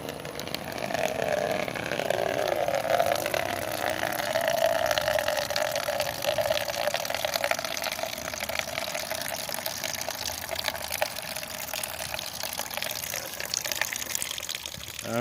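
Dirty water drains steadily out of a tank into a butter dish, a continuous close trickle and splash with gurgling bubbles that runs on without pause.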